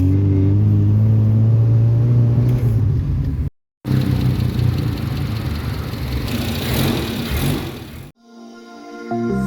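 A 1984 Mitsubishi Lancer SL box-type engine with a fuel-starved sputter runs close by, first idling with a steady low drone, then cutting out briefly and revving unevenly before stopping.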